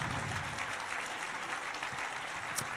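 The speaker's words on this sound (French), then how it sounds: "Vous pouvez les applaudir, effectivement." An audience at a municipal New Year's greetings ceremony applauds children and youth volunteers: a continuous, moderately quiet wash of clapping that holds steady for nearly three seconds.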